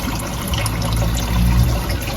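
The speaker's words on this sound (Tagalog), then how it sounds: "Sinarahan ko para mapuno yung tubig dito sa loob ng ating alimango." Water pours steadily into a crab-rearing box whose drain has been closed so it fills, a continuous close splashing trickle that swells slightly toward the end.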